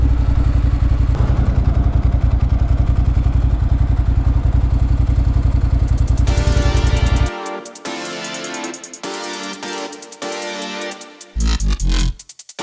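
Ducati motorcycle engine thrumming close and loud with a rapid, even pulse for several seconds, then cutting out, followed by lighter clattering and a brief return of engine noise near the end.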